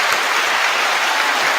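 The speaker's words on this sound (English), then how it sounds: "Let's clap it up for Ted." A short burst of close, dense audience clapping for a guest author and motivational speaker at a cocktails-and-cigars interview, continuous and fairly loud with no voices.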